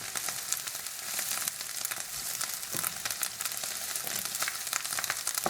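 Sausage, pepper and pesto pasta sizzling in a hot pan while being stirred and turned from the bottom, a steady close frying hiss with scattered scraping taps of the utensil.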